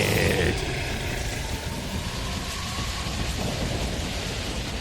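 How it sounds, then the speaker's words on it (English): Acid rain attack in the PlayStation game Legend of Legaia, a loud dense hiss of pouring rain with a deep rumbling thunder-like roar, steady and unbroken without talk. "That's right, it brings in the acid rain."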